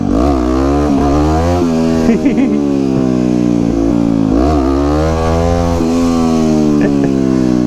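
A Daytona supermoto motorcycle engine revs repeatedly during wheelie practice, its loud buzzing pitch rising and falling in several surges close by, with a little speech mixed in.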